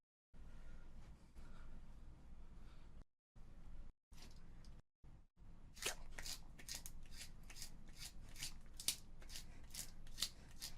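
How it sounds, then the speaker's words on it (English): A pencil is sharpened during a world-record speed attempt: after some scattered handling noises, quick scraping strokes repeat in a steady, rapid rhythm, close and fairly quiet, with no talking. "World record pencil sharpening."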